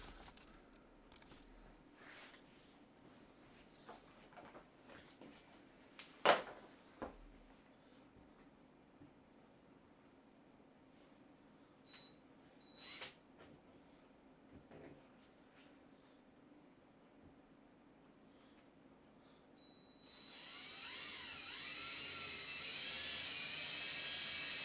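Cutting an opening in a Cessna 172F interior door panel, with faint scattered ticks and scraping through most of the clip, one sharp crack near the middle, then a steady loud high whine from a powered cutter near the end.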